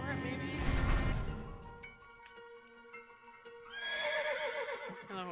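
A horse in the video game Shadows Over Loathing lets out two loud, close whinnies, one at the start and another near the end, with a brief musical game tone between them.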